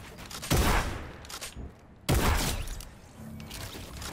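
A gun in a video game lets off two heavy, crackling bursts of fire about a second and a half apart. Each is loud and sharp-edged, with quieter game noise in between.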